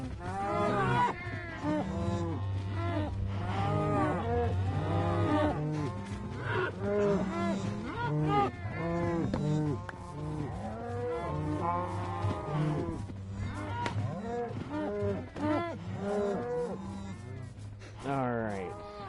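Cows lowing in a pen in the Minecraft Bedrock Edition video game, a loud, dense chorus of overlapping moos that keeps going without pause, close and crowded.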